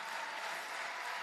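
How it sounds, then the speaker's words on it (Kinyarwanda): A church congregation clapping in praise, a dense, even burst of applause held at a steady level for a brief moment. "Amashyi menshi n'impundu nyinshi."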